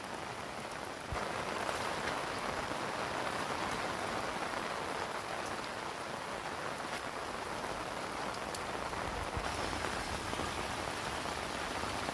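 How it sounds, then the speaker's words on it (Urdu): Heavy rain pours down steadily in Dadyal, Azad Kashmir, a dense, unbroken hiss of drops on surfaces that stays loud and constant throughout with no voices. "ناظرین بارش نہ خوبصورت منظر بھی ہے اور بارش خطرناک حد تک پہنچی گئی ہے."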